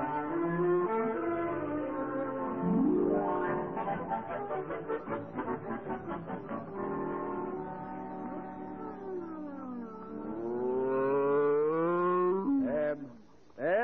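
A cow moos repeatedly at close range in a rural farm setting, long drawn-out lowing calls that rise and fall, loud and continuous with no talk.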